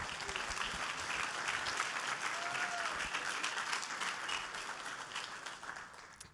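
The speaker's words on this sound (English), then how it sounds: "Round of applause for the man." Sustained applause for a speaker at a conference, the Zabbix Summit 2024 in a hall, with dense steady clapping from an audience that holds an even level throughout.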